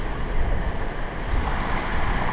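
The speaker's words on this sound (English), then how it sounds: "the waves are throwing us around from left to right" Waves wash against a sailboat out at sea, a continuous churning rush mixed with wind buffeting the microphone, steady and close with no talk.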